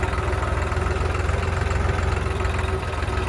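Tractor engines idle among tractors lined up at a farmers' union gathering at a market yard, making a continuous, close, throbbing diesel rumble with a steady knock and no speech.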